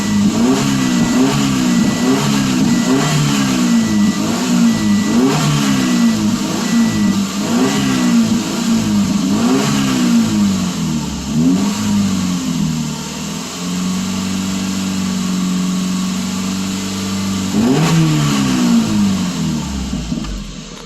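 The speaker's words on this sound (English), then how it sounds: "You gotta rev her up to 3-4 grand." A 2007 Subaru Impreza with a lumpy idle after warm-up is revved repeatedly to around 3,000–4,000 rpm, loud close engine pulses rising and falling in a steady rhythm, with a brief lower idle stretch before another rev.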